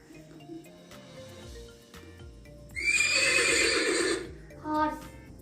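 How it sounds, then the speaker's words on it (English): A recorded horse gives one long, loud, quavering neigh, followed by a shorter whinny, over a soft stepping tune in the background, played as an animal-sound quiz item. "Horse."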